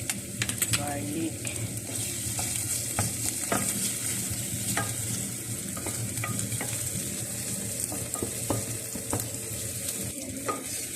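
Garlic sizzling and frying steadily in a pan with onion for Filipino ginataan monggo, with scattered clinks and scrapes of a utensil stirring throughout, close and continuous.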